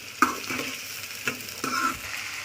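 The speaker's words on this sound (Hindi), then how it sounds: "फिर प्याज, और प्याज को तब तक भूनेंगे तब तक वो ब्राउन ना हो जाए।" Onions for baingan bharta fry softly in a pan, with a low sizzle and a few light spatula scrapes and taps over about two seconds, quiet and close.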